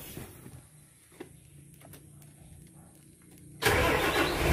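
Dump truck engine starting, with a hydraulic PTO used to raise the tipper: after a quiet stretch with small clicks, the engine suddenly cranks and catches into a loud, steady close-up idle.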